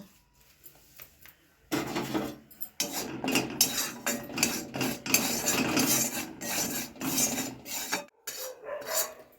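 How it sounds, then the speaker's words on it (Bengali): Spatula scraping and stirring dry gram flour roasting in a metal pan, a steady rasping scrape with light clinks, close and continuous after a quiet start. "এবার বেসনটাকে অল্প করে একটু ভেজে নেব"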